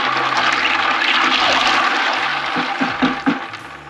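Ice water poured into a turkey brine for a spatchcock smoked turkey, a steady rushing, splashing pour that fills the clip, loud and close, with a few heavier sloshes and glugs near the end.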